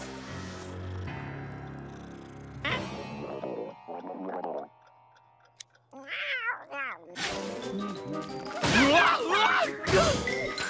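A cartoon cat yowls and caterwauls amid crashes and whacks, bursts of cries broken by short pauses and louder chaotic clatter near the end.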